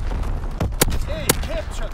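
Mortar rounds firing in a Call of Duty WW2 multiplayer match on the Shipment 1944 map, a dense fusillade of sharp close blasts and pops mixed with game voices.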